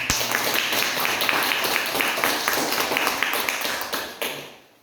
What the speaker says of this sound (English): I'm not sure you should be clapping